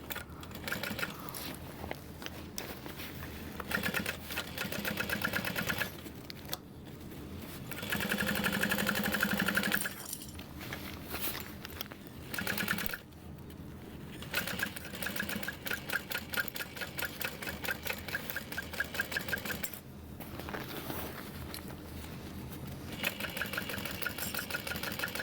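A sewing machine stitches through a backpack in several bursts of rapid, even clatter, close and fairly quiet, separated by short pauses and a few handling sounds, with no talk.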